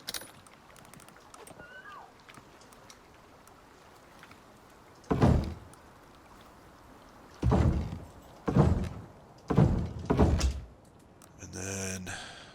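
Building a door in the survival video game Icarus brings a series of hollow wooden thunks and clunks, several separate bursts in a quiet setting, ending with a rattling mechanical sound.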